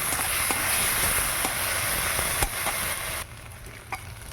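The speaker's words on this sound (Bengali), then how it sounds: "এবার দিয়ে দেবো ভেজে রাখা পটলগুলো মশলা দিয়ে কষে নেবো" Fried pointed gourd (potol) is sautéed with spices in a pan: a steady sizzle broken by occasional light stirring scrapes and clicks, fading quieter near the end.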